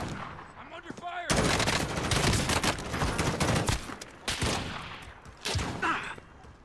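Dense bursts of automatic gunfire from a Warzone match crackle in loud rapid volleys, broken by short pauses, with players briefly talking in between.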